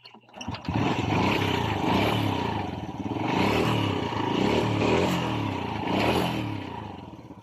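Honda Wave 100 motorcycle engine, loud and running rough, roars close by with steady rumble and clattering, swelling in revs several times across the whole stretch.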